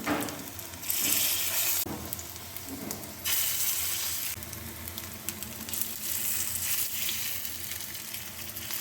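Bora fritters dropped into hot oil fry with a loud, dense sizzle, with brief gaps and surges as batches go in, continuous across the stretch with no voices.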